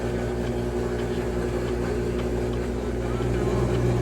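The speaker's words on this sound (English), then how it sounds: "Look how fast it's going. I think it's definitely the final spin." A Whirlpool 4.7 cu. ft. washing machine whirs through its fast final spin cycle, a loud, steady, droning hum that holds even throughout.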